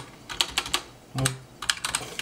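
Typing on a Cooler Master Lite L Combo keyboard, quick clusters of crisp key clicks in two bursts separated by a brief pause, close and clear with no talk.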